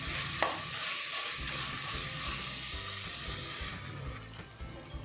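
Chopped tomatoes fry in oil in a pan for chicken biryani, giving a continuous close sizzle with light stirring scrapes. The sound is steady and moderately loud, with no voices.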